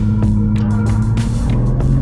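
BMW 140i 1 Series driven hard on a track, a loud steady engine drone with strong low harmonics and brief shifts in pitch, close-up and continuous with no talk.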